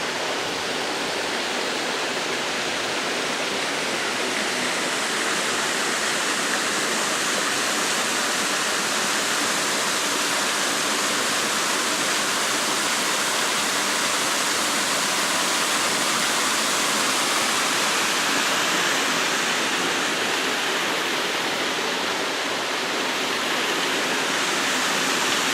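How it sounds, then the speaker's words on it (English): Lost Creek Falls pours in a steady, loud, unbroken roar of falling water that fills the whole stretch, with no voices over it. "As always, Lost Creek Falls"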